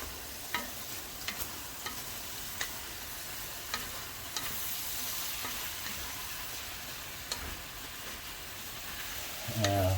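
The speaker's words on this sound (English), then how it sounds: "Give it a stir." Onion, pepper, celery and mushrooms cook in a pot over a soft steady sizzle, while a spoon stirs them with repeated light clicks and scrapes spaced every second or so, ending in a louder clatter.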